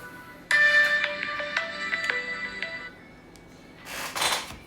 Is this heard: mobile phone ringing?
yes